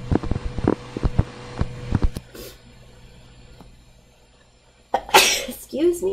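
A person sneezes partway through a chemistry lesson, a sharp loud burst up close followed by breathy follow-through, with talk before it.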